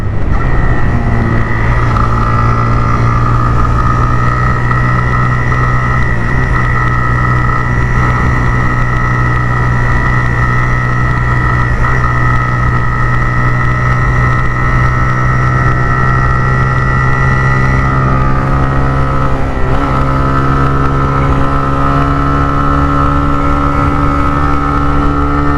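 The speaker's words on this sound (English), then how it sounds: "nice and refined motor." A refined motor runs steadily with a smooth, even drone and constant loudness throughout, close and unbroken, with a slight shift in pitch near the end.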